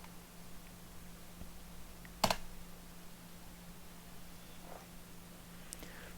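Computer keyboard keys tapped on a Linux machine while entering a terminal command: one short, crisp cluster of clicks, then faint scattered taps, all quiet against a low steady hum.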